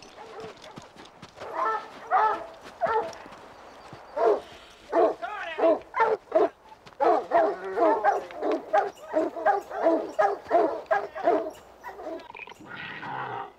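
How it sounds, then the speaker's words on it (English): Hunting hounds barking as they tree a cougar in the Rockies, a dense run of excited repeated barks and yips at moderate distance, overlapping almost without pause. "Dogs are used to follow the lion's scent, and as they draw near, will be released to tree the cat."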